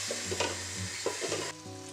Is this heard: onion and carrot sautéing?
yes